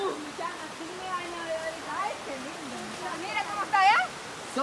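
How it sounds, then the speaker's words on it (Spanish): A clean river in Guatemala, the Río Hondo, flows with a steady, soft rush of water that stays in the background while people talk over it. "Aquí este río sí está bien limpiocito"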